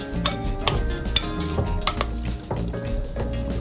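A spoon clinks and scrapes against a bowl while avocado tortilla dough is mixed with salt, pepper and garlic, giving close, irregular metallic taps and soft squishy stirring.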